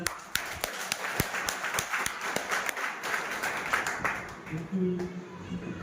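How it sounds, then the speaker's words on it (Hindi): Audience at an RCM business seminar in Surat claps enthusiastically, a crowd of sharp individual claps in uneven rhythm with a voice speaking near the end. "मोदी सर के लिए जोरदार ताली।"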